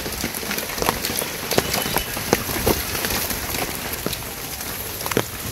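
Light drizzle patters outdoors in a village, a faint steady hiss of rain with scattered individual drops ticking sharply on nearby surfaces.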